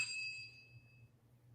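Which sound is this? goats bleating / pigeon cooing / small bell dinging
small bell dinging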